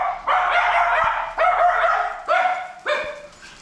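A dog barks sharply four times in quick succession, loud and close, each bark a short harsh burst with brief gaps between, with no talking over it.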